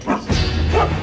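Guard dog in the stealth video game Mark of the Ninja gives a couple of quick, close barks in a row, loud and alone.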